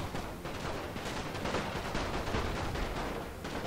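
Artillery and gunfire in The Great War: Total War, a dense, unbroken barrage of overlapping shots and rumbling blasts at constant high loudness.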